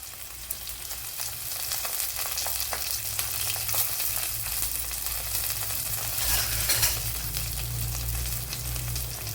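Green chillies and curry leaves fry in oil in a pan for a mackerel curry with mango, giving a steady, close sizzle with brief stirring scrapes throughout.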